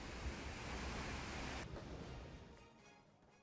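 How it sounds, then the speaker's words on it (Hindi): Heavy storm waves surge at sea while strong wind of about 80 km/h roars over them near Sochi, Russia, a loud dense wash that eases and thins toward the end. "लहरें उठ रही हैं। 80 किलोमीटर की रफ्तार से यहाँ पर हवाएं चल रही हैं।"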